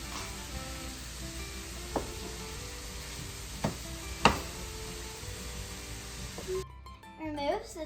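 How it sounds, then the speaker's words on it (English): Ground beef, onion and garlic frying in a skillet over medium heat, a steady soft sizzle with occasional scrapes and clinks of a utensil, then a brief pause as stirring shifts the sound. "Put your ground beef, onion, and garlic into a skillet and bake it at medium heat for 3 to 4 minutes."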